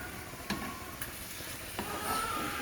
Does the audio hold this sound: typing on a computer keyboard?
no